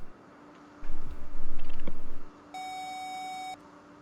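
A single steady radar warning receiver tone in the Falcon BMS flight simulator sounds for about a second, clear and fairly loud, following a low rumbling F/A-18C engine-like drone.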